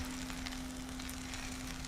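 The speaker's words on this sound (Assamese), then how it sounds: "মটৰ আৰু আলুখিনি এতিয়া লগ কৰি ভাজি ল'ম।" Peas and potatoes fry together in oil in a pan while cooking matar paneer, giving a steady, even sizzle with soft crackles and a faint constant hum underneath, with no talking.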